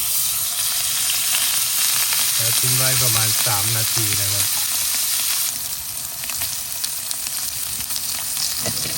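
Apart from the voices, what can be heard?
rib eye steak sizzling in an iron pan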